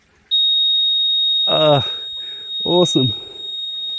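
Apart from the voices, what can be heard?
digger cab warning beeping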